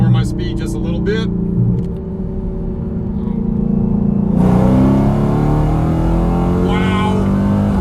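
A 1,000 horsepower Dodge Hellcat with a 6.2 engine pulls hard from 60 to 130 mph, a loud rising engine roar with gear-change breaks and climbing pitch from inside the cabin, a voice briefly heard early on.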